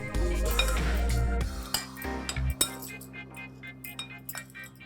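Spoon clinking against a glass or metal bowl while crispy corn is mixed with chili powder, lemon juice and coriander, a run of sharp clinks and scrapes, close and fairly loud.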